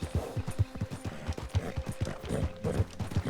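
A horse's hooves pound in a steady galloping rhythm in the video game Red Dead Redemption 2, close and clear, with mechanical creaks of tack and no neighing evident.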